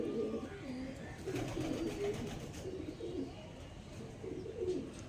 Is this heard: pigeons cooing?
yes